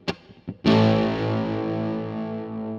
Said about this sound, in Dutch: En wanneer ik het pedaal inschakel en ik heb de fuzz een klein beetje teruggedraaid